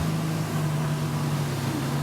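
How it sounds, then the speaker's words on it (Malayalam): A Kuramathi Island Resort boat out on the sea in the Maldives, heard as a steady droning engine hum with constant wash and wind noise, even in level throughout, no talking. "ഈ ബോട്ട് മറ്റൊരു റിസോർട്ടിന്റേതാണ്. കുറമാത്തി ഐലൻഡ് റിസോർട്ടിന്റെ ബോട്ട്."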